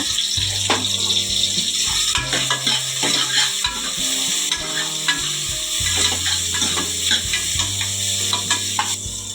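Spices for jackfruit sambar fry in a pan with a bright, continuous sizzle, joined by repeated clinks and scrapes of a spoon stirring, loud and close throughout.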